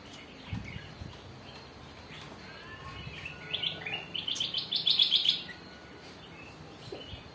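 Caged doves such as turtle doves and zebra doves set out to sun, giving a short run of chirping calls that rises in the middle, moderately close over a faint background.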